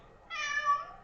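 A pet cat lets out a single clear, drawn-out meow, close and moderately loud, rising then fading over about half a second against a quiet room.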